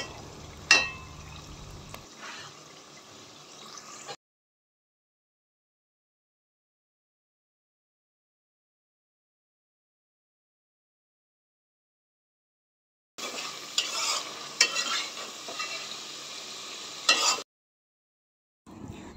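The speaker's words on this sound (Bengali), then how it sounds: "ভালো করে নেড়ে চেড়ে দিচ্ছি যাতে মশলাটা লেগে না যায়।" Spiced fish masala being stirred and fried in a pan, heard in two moderate bursts of scraping and sizzling separated by a long stretch of silence.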